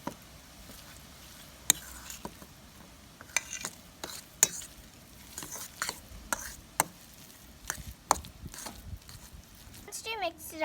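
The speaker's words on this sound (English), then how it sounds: "And now we're going to mix it all together well." A spoon works through a veg burger mixture in a bowl, giving irregular soft clicks and scraping knocks at close range, with a voice talking over the stirring.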